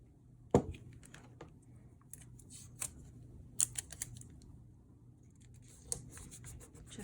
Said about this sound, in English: I'm going to go ahead and tape this